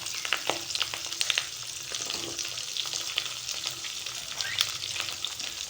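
Steady sizzling of shallots and garlic frying in oil for a Tamil fish curry, with faint stirring scrapes and small pops, close and moderately quiet, no talk.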